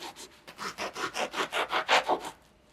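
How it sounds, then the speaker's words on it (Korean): A knife saws back and forth through a soft bread roll, cutting it in half: about a dozen quick, even rasping strokes, close and fairly quiet, with no voices. "모닝빵을 반으로 잘라"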